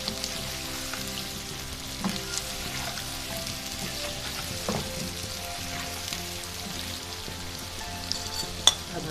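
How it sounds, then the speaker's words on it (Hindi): Cumin and nigella seeds fry in oil in a pan for a potato curry, giving a steady close sizzle with light crackles and occasional stirring clicks. A sharp tap comes near the end. "अब हम ये ज़ीरा डालेंगे और साथ ही ये कलौंजी।"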